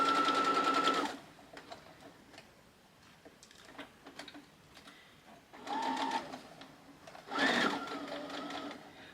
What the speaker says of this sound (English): and we're going to stitch all the way around.